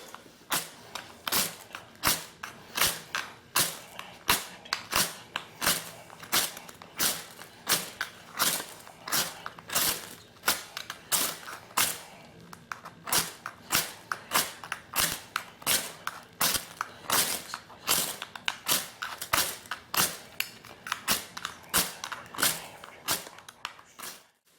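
A striker scrapes a ferro rod again and again, producing sharp, rasping strikes in a fast, steady rhythm of roughly two per second that continues throughout at close range.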